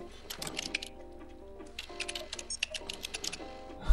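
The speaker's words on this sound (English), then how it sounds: "I'm typing on that computer, dude." A cat pawing at a computer keyboard in the video game Stray, quick irregular clicky taps and beeps over soft background music, fairly close and moderate in level.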